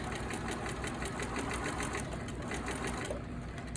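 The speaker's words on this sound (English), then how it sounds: "So this is just the straight stitch." A sewing machine runs steadily close by, stitching a straight stitch on appliqué with a fast, even mechanical chatter of the needle that holds constant and eases slightly near the end.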